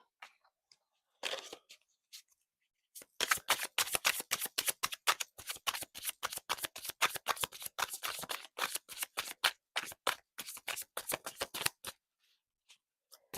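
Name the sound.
tarot cards being shuffled, cards falling out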